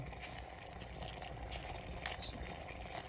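Salted water boiling in a pot during a school lab on the phases of water gives a steady, dense bubbling hiss that holds constant throughout, close and moderately quiet.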